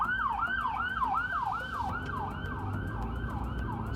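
An ambulance siren on a Brooklyn street wails in fast, regular rising-and-falling sweeps, loud and fairly close, with traffic rumble beneath and no talk.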